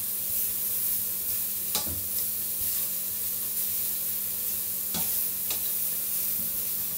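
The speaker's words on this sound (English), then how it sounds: "Right, so that is browning a treat." Beef browning in a pan for boeuf bourguignon, a steady loud sizzle and hiss throughout with a few sharp clinks of a utensil against the pan.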